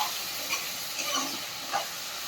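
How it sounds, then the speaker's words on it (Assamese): Potatoes frying with salt and turmeric in a pan, giving a steady, moderate sizzle with a few soft stirring scrapes and no talk. "আলু ইয়াত নিমখ ৰং গুড়া দিলোঁ, সেইটো ভাজি আছোঁ"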